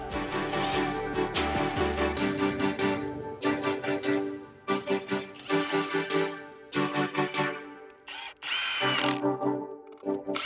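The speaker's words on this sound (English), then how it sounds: "And now we are lag bolting together the pieces of each 10 by 10 platform so that they are all one huge piece put together with these bolts." A power driver sinks lag bolts into a wooden 10 by 10 platform for a glamping dome, giving loud, close whining bursts that rise and cut off repeatedly with brief gaps between them.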